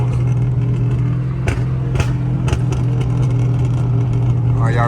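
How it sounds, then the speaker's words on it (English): Dodge SRT engine droning steadily on a highway, a loud constant low hum with a few brief bumps, no clear rising rev, under continuous road and cabin noise. "just gonna do solo pulls on the highway and just, you know what I'm saying, so y'all can hear the car"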